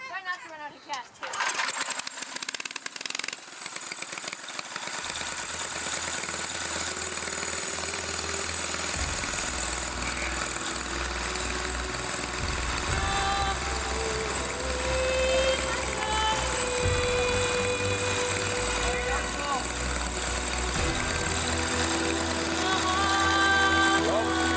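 A small gasoline engine on a motorized rail bike running steadily, a dense buzzing drone that rises and holds throughout, loud and close, with people talking briefly at the start.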